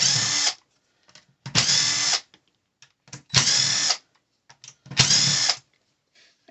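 A power tool spins out a 2.5mm bolt from a Traxxas Wide-Maxx RC car in four loud, close bursts of about half a second each, separated by quiet gaps with faint clicks of handling.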